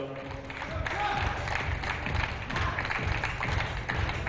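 Audience applause at a professional billiards team league match, a steady wash of clapping from a crowd, fairly loud and continuous under ambient hall noise.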